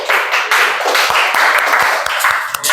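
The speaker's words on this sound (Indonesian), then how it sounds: "Terakhir, tepuk tangan." Clapping from a classroom group during a teaching performance assessment, loud and close, with uneven bursts of hands and a few sharper individual claps standing out.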